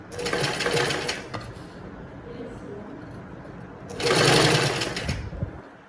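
A sewing machine stitches saree fabric in two loud, close whirring bursts separated by a quieter pause, with a person talking in the background.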